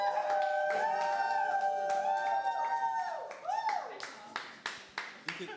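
An evening church gathering audience claps and cheers, sustained vocal whoops and howls under quick bursts of hand claps that grow sharper and sparser toward the end.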